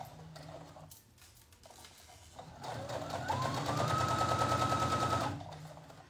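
A sewing machine stitches fabric in a live sewing session, quiet start-stop whirring at first, then a longer continuous rapid stitching run with a rising motor whine, close by, no talk.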